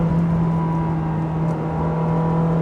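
The engine of a manual Ferrari 360 drones steadily under acceleration, a loud and sustained tone from inside the car with no talking.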